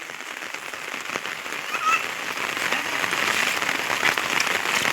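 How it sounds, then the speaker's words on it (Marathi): Heavy monsoon rain pours steadily in a village, a dense hiss of drops beating on surfaces that grows a little louder toward the end. "आज पाऊस कसं काय भरपूर आहे ना मोकार पाऊस आहे"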